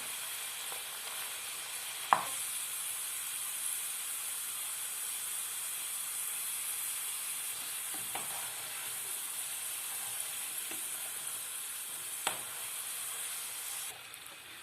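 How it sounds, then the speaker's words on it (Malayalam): Potato sticks for French fries sizzle steadily in hot oil over a medium flame, a constant close hiss with a few sharp pops and crackles throughout. "ഇത് നമുക്ക് ഇതിലേക്ക് നമ്മുടെ ഈ പൊട്ടറ്റോ ഇട്ട് കൊടുക്കാം"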